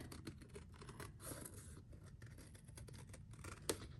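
Scissors snip through layered printed fabric pieces in a quiet craft session, giving faint, rapid repeated cuts and rustles close by, with a sharper snip near the end.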